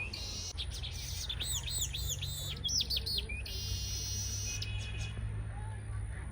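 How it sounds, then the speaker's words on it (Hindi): Bright, sweet bird chirps and tweets repeat in quick bursts over a steady low background hum, fairly close and clear. "चिड़िया की आवाज़ देखे कितनी प्यारी लग रही थी, इतनी मीठी मीठी आवाज़ थी चिड़िया की"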